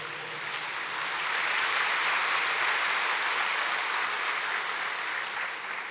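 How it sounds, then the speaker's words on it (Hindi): A seated crowd at a spiritual discourse gathering claps steadily, a thick, continuous roar of many hands that swells slightly after the first second and then holds evenly to the end. "उसके लिए ताली बजाओ"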